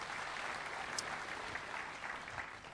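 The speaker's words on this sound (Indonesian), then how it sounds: "Berikan tepuk tangan buat Tuhan Yesus." A church congregation applauds steadily and evenly for a few seconds, the clapping dense and somewhat distant in a large room.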